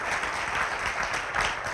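Continuous audience applause for a speaker at a lecture on healing and the human energy system, a dense, even wash of many hands clapping at moderate volume.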